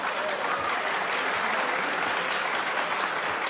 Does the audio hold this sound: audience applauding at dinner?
yes